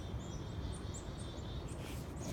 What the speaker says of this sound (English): Chickadee.